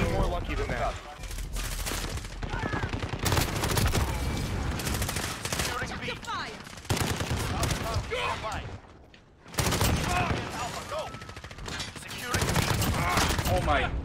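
Shotgun blasts in Call of Duty Modern Warfare ring out repeatedly amid chaotic multiplayer gunfire, loud booming shots in irregular clusters, with people talking excitedly over the action.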